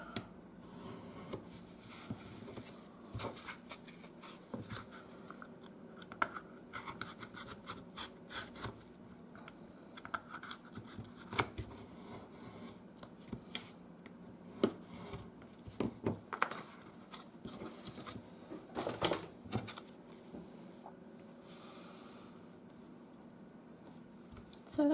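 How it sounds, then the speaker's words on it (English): A craft knife cuts a shape out of board, giving a long run of small, close scratchy rasping strokes and light taps with irregular pauses, quiet and without talking. "I just use my craft knife for cutting that out as well"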